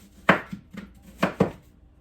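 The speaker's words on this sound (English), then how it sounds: "Even though if you cut into your onion in a V," A knife chops through an onion on a cutting board during home cooking, with five distinct thuds spaced unevenly over about two seconds, two of them louder and sharper, close and clear with no talking.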